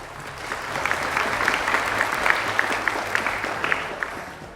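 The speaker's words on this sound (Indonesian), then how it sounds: "Tepuk tangan." Audience at a campus event welcoming new university students breaks into applause, a moderate, steady patter of many hands clapping throughout, with sharper individual claps standing out.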